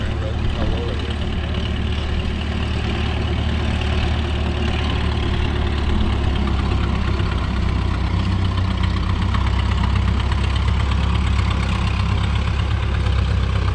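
An old tractor engine runs steadily, a continuous low, rumbling idle with a faint knocking texture that holds near and even throughout, with no pauses.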